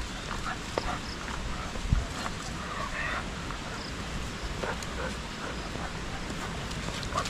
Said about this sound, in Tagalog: Yung mga aso natin, pinalabas natin, si Bingo at si Mateo.